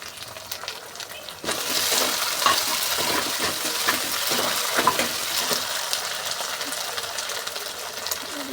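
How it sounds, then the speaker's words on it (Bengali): Pork is sautéed with green chillies in a pan. A steady, close sizzle of frying continues under repeated stirring and scraping, with no pause throughout. "কাঁচা লঙ্কা দিয়েছি, শুকনো লঙ্কা একদম দেবো না। তো এটা ভালোভাবে কষিয়ে নিই।"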